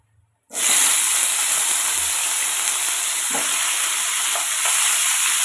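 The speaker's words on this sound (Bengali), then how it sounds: "এখন মাছগুলো দিয়ে দিচ্ছি সব মাছ দিয়ে দিলাম ভালো করে ভেজে নেবো আমি মাছগুলো" Fish coated in salt and turmeric dropped into hot mustard oil in a wok, erupting into a loud, steady hissing sizzle after a brief quiet start, with a few faint clinks.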